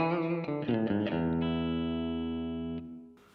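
Electric guitar through a Kernom Ridge overdrive with tone, volume and drive at noon, mood at zero with no clipping: a few quick picked notes, then a held chord ringing and slowly decaying, close and mildly driven.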